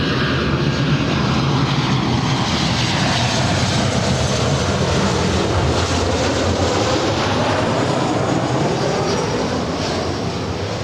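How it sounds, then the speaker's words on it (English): A Delta Boeing 737-900ER arrives at Los Angeles International Airport, its jet engines roaring loud and continuous with a broad, rushing drone that shifts slightly in pitch as it passes. "And this is Delta 1659 coming in from Las Vegas on a 4-year-old 737-900ER"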